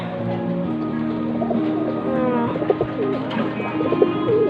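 Pigeons coo softly over a steady background hum, several overlapping low murmuring calls.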